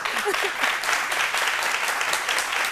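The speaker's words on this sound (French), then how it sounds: "Quand vous applaudissez pour nous." A studio audience on a midday television talk show claps steadily and evenly, a dense continuous patter of hands holding at a constant level from start to finish.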